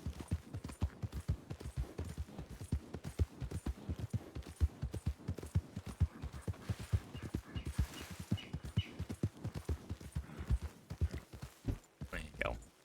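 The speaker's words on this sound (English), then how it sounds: "Clip clop, clip clop." Horse hooves clip-clopping in the video game Red Dead Redemption 2, a steady, evenly paced stream of close, firm hoofbeats that continues throughout, with a person talking briefly over it.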